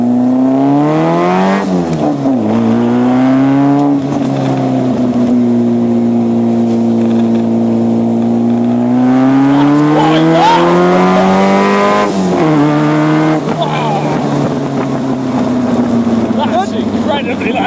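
A Westfield sports car accelerates hard through a tunnel, its engine roaring loudly and rising through the revs with gear changes, the sound echoing and filling the space continuously for the whole stretch.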